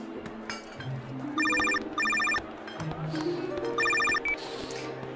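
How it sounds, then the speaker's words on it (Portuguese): A telephone rings for an incoming call, with three loud bursts of electronic trilling in a quiet room and soft voices and background sounds between the rings. "Senhora Dominique, estou ligando para informá-la que hoje mesmo agiremos"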